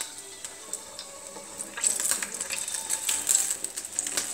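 Apulian pettole dough frying in hot oil, a soft sizzle that starts quiet and rises into steady bubbling crackle partway through, close and fairly faint.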